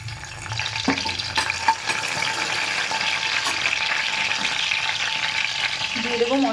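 Bay leaves sizzle and crackle in hot mustard oil in a wok, a steady close frying hiss with occasional clicks and stirring scrapes throughout.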